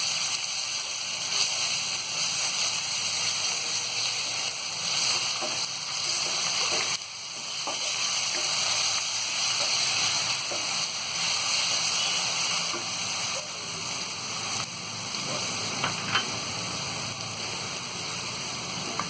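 Ginger garlic paste fries in a pan over lowered heat for a minced meat and potato dish, a steady hissing sizzle that carries on evenly throughout, with a few faint clicks and pops scattered through it.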